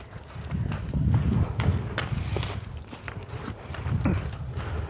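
Horse hooves clip-clop at a walking pace, a steady run of soft nearby steps over a low rumbling background.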